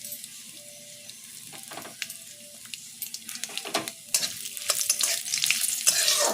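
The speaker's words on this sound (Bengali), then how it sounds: "তারপরে আমি এর মধ্যে দেব নারকেল কুচি" Grated coconut sizzles in hot oil in a pan for a vegetarian banana-flower ghonto, a steady crackling fry with scattered louder pops and stirring scrapes that build toward the end, with no voices.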